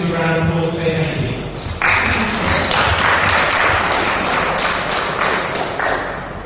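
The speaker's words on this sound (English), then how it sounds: "Perhaps we can just give a round of applause for their thank you." Audience applause at a workshop, thanking participants, heard as a continuous clatter of clapping hands with thumps mixed in, beginning under a fading voice and swelling for several seconds.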